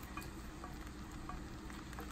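Spaghetti being stirred in a heavy pot, a soft, steady scraping and slosh with faint sizzling beneath, continuous and close with no talking.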